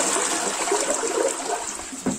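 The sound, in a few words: toilet flush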